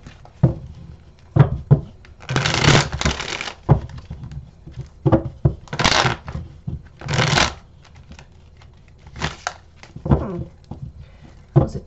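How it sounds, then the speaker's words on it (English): A deck of tarot cards is shuffled in several quick riffling bursts, close and crisp, with soft taps and handling sounds between them. "That was a terrible shuffle."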